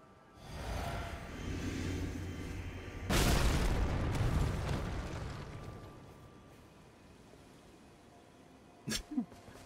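An item exploding in Elden Ring: a low rumbling buildup swells into a sharp heavy boom that decays slowly, followed by a couple of quick pops near the end.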